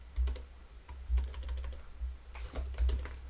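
Quick, light keystrokes on a computer keyboard, with a short phrase typed out and then a final key press, close and clear over a faint low hum.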